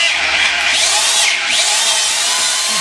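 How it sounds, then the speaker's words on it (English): A hardened drill bit bores into the aluminum engine block of a Cadillac Northstar, a loud, steady high-pitched whine and grind that holds for the whole stretch with slight pitch sweeps as the bit cuts. "So just get it in there, get it drilled, and get it done."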